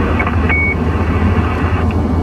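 A CB radio roger beep in a moving car on a highway, a short bright electronic tone near the start over steady road and engine rumble.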